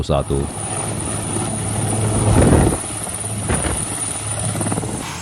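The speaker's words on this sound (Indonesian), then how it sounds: "Sameh Shoukry bersama rombongan injakan kaki di tanah Palestina dengan menggunakan helikopter militer" A military helicopter arriving in Ramallah in the West Bank gives a loud, steady rotor and engine drone throughout, with indistinct voices mixed in.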